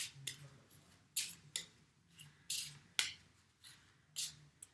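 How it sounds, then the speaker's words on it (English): Playing cards being shuffled by hand in short riffling bursts, several quick crisp flurries with brief pauses between, close and fairly quiet with no talking. "So we're going to shuffle,"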